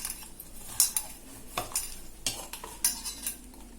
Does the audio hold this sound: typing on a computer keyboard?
no